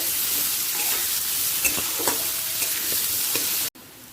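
Steady sizzling of onions frying in a hot pan until lightly browned, with a few stirring scrapes, close and continuous until it cuts off abruptly near the end.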